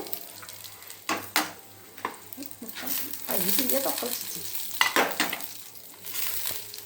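Urad dal, chana dal and dry red chillies fry and get stirred in a pan, crackling sizzle with scraping spoon strokes and occasional clinks, a voice talking at times.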